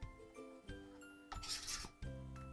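A rotary cutter trimming quilting fabric along a ruler on a rotating cutting mat, a close, brief rasping swipe in the middle of a quiet, faintly humming room.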